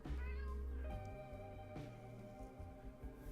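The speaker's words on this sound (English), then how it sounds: "I have cats fighting in the floor." Cats fight on the floor, giving loud, drawn-out meowing and yowling with wavering harmonic cries, close and continuous for a few seconds under a muffled background.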